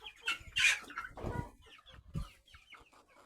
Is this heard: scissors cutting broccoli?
no